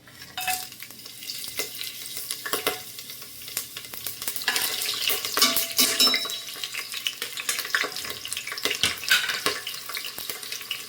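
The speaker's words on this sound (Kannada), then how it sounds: "ಇವಾಗ ಎಣ್ಣೆ ಕಾದಿದೆ. ನಾನಿವಾಗ 1-2 ಪಲಾವ್ ಎಲೆ, ಏಲಕ್ಕಿ, ಸೋಂಪು ಹಾಕೋತಾ ಇದ್ದೀನಿ." Whole spices, bay leaves, cardamom and fennel, frying in hot oil, with a steady crackling sizzle and intermittent stirring scrapes in the pan, fairly close and with no talking.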